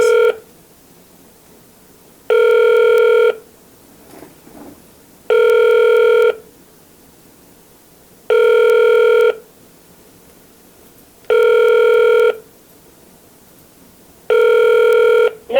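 A telephone rings for an incoming call in a steady, loud pattern: six evenly spaced ring bursts, each lasting about a second, with near-silence between them.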